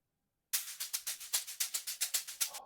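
An amapiano shaker loop enters after half a second of silence and repeats steadily, about a dozen crisp, bright, airy shakes in an even rhythm, close and prominent with nothing else playing.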